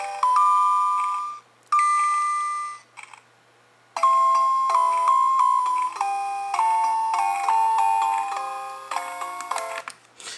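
Bright, chiming video game music with bell-like tones, played through RetroArch's Crystalizer audio filter, loud and clear, pausing briefly before continuing in a busier run of notes.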